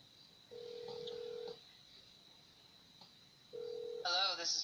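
Phone keypad tones dialing the police inside the video game GTA 5, two steady beeps separated by a pause, followed by a warbling electronic tone, all over a faint constant hum.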